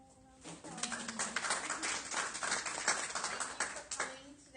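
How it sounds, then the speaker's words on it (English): An audience at a social media panel breaks into a round of applause, dense close clapping that builds after a brief pause and holds steadily for several seconds. "Give them a little round of applause."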